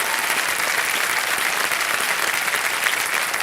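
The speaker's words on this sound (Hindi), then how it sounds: "जोरदार तालियां बज जाए इनके लिए" Loud, steady applause from a studio audience on a Hindi quiz show set, dense clapping filling the whole stretch without pause or speech.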